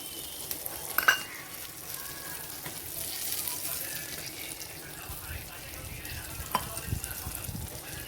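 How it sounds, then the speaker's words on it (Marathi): Soft continuous sizzling of Karli and Saundala fish frying in oil on a pan over low heat, with a couple of faint clinks and light background noise. "चांगली क्रिस्पी अशी फ्राय करायची आहे"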